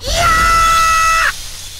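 A scream from the Danganronpa video game: one loud, high, sustained shriek lasting just over a second before cutting off into quieter background.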